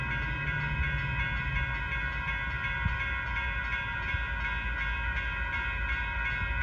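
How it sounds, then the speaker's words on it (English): A northbound Union Pacific freight train passes trackside at San Mateo on the Caltrain line, giving a steady low rumble with a brief sharp knock partway through and no voices. "Here comes a northbound Union Pacific train."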